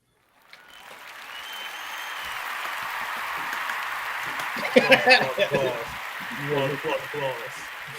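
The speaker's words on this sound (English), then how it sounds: "Applause." Audience applause for a guest arriving on a talk show swells up from silence into a sustained wash of clapping, with voices calling out and talking over it near the end.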